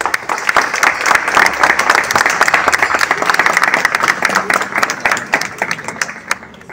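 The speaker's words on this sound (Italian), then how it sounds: "Un applauso alle nostre monache." A parish congregation at a Marian feast-day Mass applauds the nuns, a loud, sustained wave of many hands clapping in a resonant church, steady throughout.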